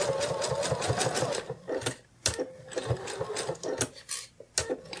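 A sewing machine stitches seams on a sitting kitty plush, running in fast rhythmic bursts with a brief pause and short restarts, loud and close.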